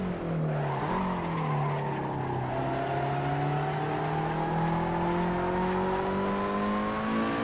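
A Lotus Exige or Elise in Assetto Corsa, its engine droning steadily and rising gradually in pitch as it accelerates, with a sustained whine over constant road roar and no pauses.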